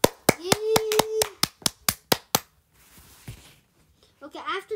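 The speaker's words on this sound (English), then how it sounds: "Huge round of applause for him." A single person claps hands about a dozen times in a quick, fairly even rhythm, close and loud, followed by quiet and then a brief voice.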